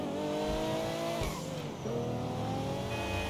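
A Range Rover driven in GTA V gives a loud, steady engine drone with strong harmonics. Midway the revs dip briefly and then climb back, with a hint of tyre squeal.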